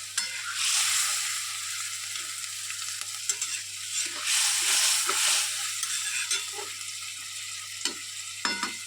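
Onions rinsed and moistened with a little water, stirred in a pan while cooking with fish: steady close sizzling with soft scraping stirs and a few clicks of the spoon, no talking.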